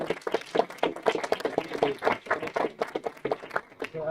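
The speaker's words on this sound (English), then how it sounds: "It's applause." An audience claps at a hackathon pitch event, with dense, fast clapping that stays loud and steady throughout, and voices mixed in among the claps.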